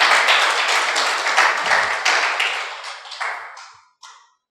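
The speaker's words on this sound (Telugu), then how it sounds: "చప్పట్లు కొట్టి దేవుని నామమును మహిమపరచాలి." Church congregation clapping hands together in praise, a dense burst of applause that thins and fades over a few seconds, ending in a few scattered final claps, with no talk.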